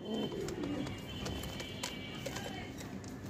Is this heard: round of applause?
no